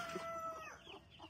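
Chickens around a henhouse give a quick, quiet cluck or two at feeding time, faint and brief against low background noise.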